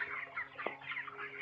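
Twenty-seven-day-old poultry-farm chickens weighing about 1600 grams cluck and peep steadily nearby, a constant soft chatter broken by one brief sharper squawk.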